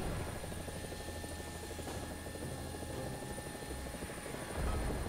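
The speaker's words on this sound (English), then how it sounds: "The G-Lynx is a really maneuverable helicopter" A G-Lynx helicopter rotor in the combat video game War Thunder, a continuous whirring drone that holds steady at moderate loudness and swells slightly near the end.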